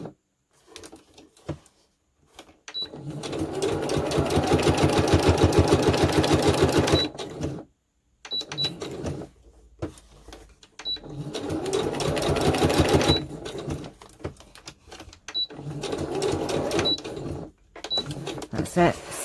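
Sewing machine stitching through a book page project in two long, steady runs of rapid needle rhythm, separated by pauses with handling noise and brief talk.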